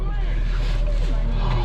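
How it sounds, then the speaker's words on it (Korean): Small Chevrolet Spark Matiz Creative city car engine idling, a steady low rumbling drone with faint wind-like noise over it, continuous for the whole moment. "이렇게 시동을 켜시고"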